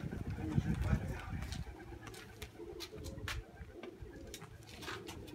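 Pigeons coo at a dovecote, low soft repeated cooing close by, strongest early on, with scattered wing flutters and a nearby voice talking over them.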